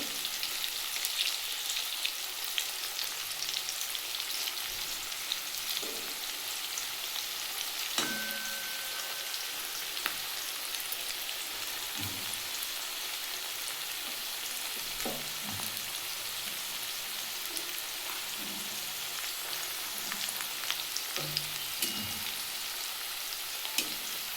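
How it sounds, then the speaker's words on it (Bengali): Pieces of teasel gourd (kakrol) fry in oil with a constant soft sizzle and crackle for a long stretch, along with occasional faint clicks and stirring knocks. Nobody talks. "এবার আমি একটু লাল একটু হালকা লাল লাল করে এবার ভেজে নেবো"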